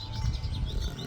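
Small birds chirping and tweeting around backyard feeders, light high calls over a low rumble of outdoor background noise, brief and moderately distant.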